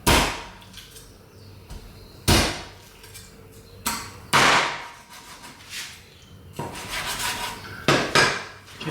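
Chicken wings are chopped into smaller pieces for frying: several sharp, close knife or cleaver strikes land on a board at irregular intervals, each with a brief ringing tail, and no one speaks.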